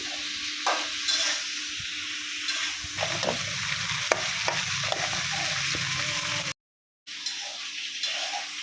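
Flat beans and potatoes fry in oil in a pan, a steady close sizzle with scraping stirring strokes throughout, briefly cutting to silence near the end before the frying resumes.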